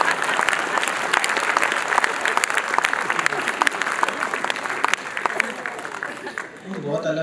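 Audience at a Hindi poetry recital (kavi sammelan) breaking into sustained applause, a dense, loud clapping crowd that continues steadily and then thins toward the end, with a voice speaking over it.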